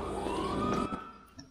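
Police car siren in the video game GTA, a wailing tone sliding through its sweep, then cutting off abruptly partway through and leaving faint clicks and a short thump.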